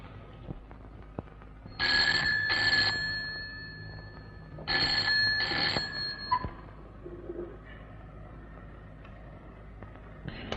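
An old-style telephone rings in two double bursts of bright electric bell tones, separated by a pause, in an indoor scene with faint background sounds.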